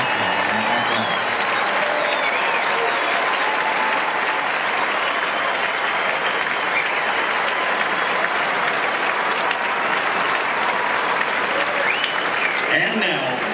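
Stadium crowd applauding at a Carolina athletics event, a dense, steady roar of clapping and cheering that holds loud and continuous throughout with no pauses.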